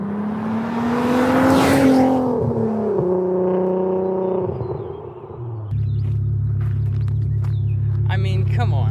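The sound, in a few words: V6 car flyby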